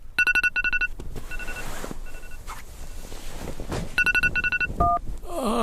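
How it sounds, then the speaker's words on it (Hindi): An electronic telephone trills in two quick bursts of rapid beeping tones, separated by a quiet stretch of faint background noise. "बड़ी देर रात को फोन बज रहा था।"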